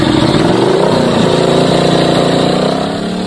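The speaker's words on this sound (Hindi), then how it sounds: "तो इधर से बाइक बड़ी गुजरती है।" A motorcycle engine passes along a main road close by, loud and steady throughout with a slightly shifting pitch as it goes, fading a little at the end.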